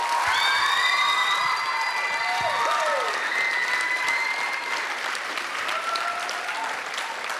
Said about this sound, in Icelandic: Þú viljum ekki fengið eitt enn klapp fyrir þau.